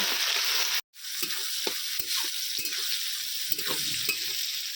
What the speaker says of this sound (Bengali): টমেটোটা পেঁয়াজের সঙ্গে ভালো করে ভেজে নেব